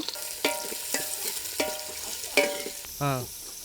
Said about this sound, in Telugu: నూనెలో ఉల్లిపాయలు పొడుగ్గా చీరుకొని పచ్చిమిరకాయలు వేసుకున్నాము